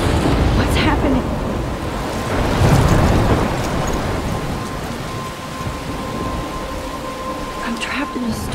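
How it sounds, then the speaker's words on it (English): A thunderstorm in the video game Life is Strange: steady heavy rain hisses throughout, with rolling rumbles of thunder swelling and fading underneath, loud and enveloping. "I'm trapped in a storm?"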